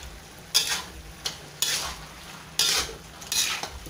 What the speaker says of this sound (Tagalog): Kailangang sugkayin agad.